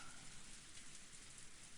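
A steady wash of heavy rain from Umineko, continuous broadband hissing that stays level throughout, with no voices over it.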